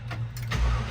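A 1955 Chevrolet Bel Air engine cranks briefly and catches, settling into a steady idle, close and fairly loud with no talk over it.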